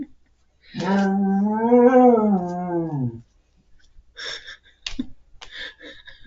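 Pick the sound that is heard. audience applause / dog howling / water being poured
dog howling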